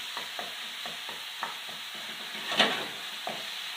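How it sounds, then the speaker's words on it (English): A soft, steady sizzle of a tomato base for dal cooking gently in a pan, with light utensil taps scattered throughout and one slightly louder scrape near the end. "just to kind of let it sizzle gently"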